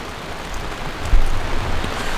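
Steady hiss of rain falling at a Cotswold caravan and camping site, with bell tents pitched nearby; a broad, even wash of noise with a brief low thump partway through, no voices.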